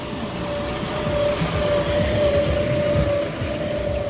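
A John Deere farm tractor engine runs steadily in C1 gear while working a field, a continuous close, loud diesel drone with a faint whine on top and no voices.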